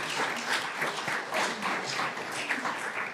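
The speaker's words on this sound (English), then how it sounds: "Let's have a round of applause for the parents." An audience at a high school senior and captain athletic award night applauds the parents, a dense, steady wash of many hands clapping at once that holds at an even level throughout.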